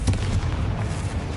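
A Confringo blast spell cast in the Hogwarts Legacy video game, a single muffled booming burst with a deep rumbling tail that fades out quickly.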